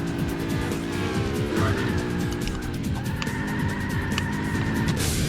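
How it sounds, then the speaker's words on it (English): A sports car drifting through a right-hand bend in Burnout 2: Point of Impact on PS2, engine droning loudly with sustained, wavering tire squeal and screeching throughout. "Drifting through that right-hander to victory in race 1, driving the sports"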